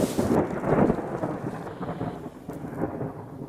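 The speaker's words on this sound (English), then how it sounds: "as you can hear, it's been thundering, which means it's going to start pouring down in a second" Thunder rumbles through the Colombian jungle, starting with a loud deep roll that fades into a long low grumble while rain patters steadily.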